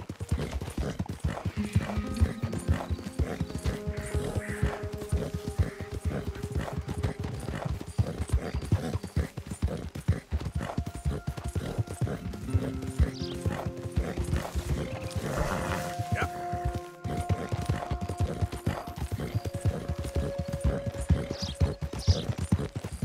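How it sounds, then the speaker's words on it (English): Steady clip-clop of horse hooves throughout, a continuous trotting rhythm with an occasional whinny, over a layer of background music and ambience. "that's one nice-looking horse you got there"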